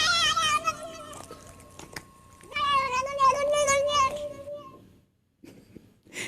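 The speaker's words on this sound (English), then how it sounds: "It sounds like a cat. It is a cat." A cat meows several times in short, clear, close calls, with a pause between bursts and near-silence at the end, heard alone without talk.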